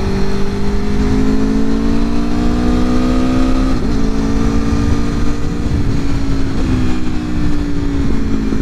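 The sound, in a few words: Aprilia motorcycle exhaust burble while riding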